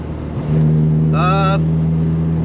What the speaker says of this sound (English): there's more tone, it's louder, sounds good, ripping through the canyons